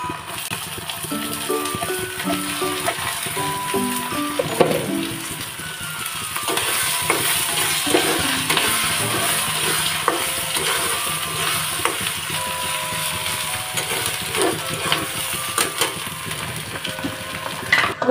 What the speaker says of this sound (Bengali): তারপরে এই যে ডিম আর চিংড়ি মাছ দিয়ে দিলাম।